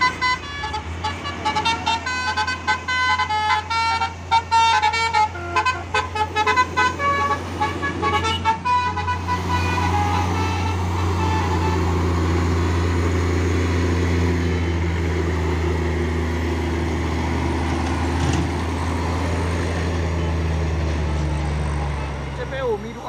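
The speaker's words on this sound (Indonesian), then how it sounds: "terpantau ramai lagi truk-truk yang akan mau menanjak di sore hari ini" Heavy trucks grind slowly uphill with a deep, sustained engine drone, a few horn toots early on, and a person talking over the traffic.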